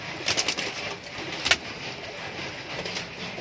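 Sylheti Kasma high flyer pigeons coo softly in a loft, low murmuring calls close by over a constant background hum, with a brief flutter or knock partway through.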